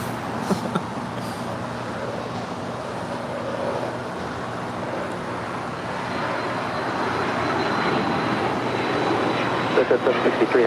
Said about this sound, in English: This is NetJet 763 departing to Santa Barbara. It's an 8-year-old Bombardier Challenger 350.